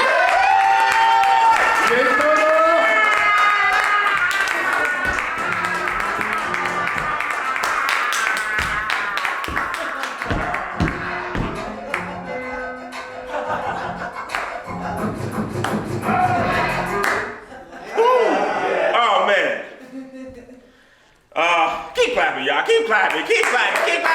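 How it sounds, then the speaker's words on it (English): A comedy night audience claps steadily for a comedian, loud at first and then thinning into scattered taps and shuffles, with voices and a brief drop near the end. "Keep clapping, keep clapping, keep clapping."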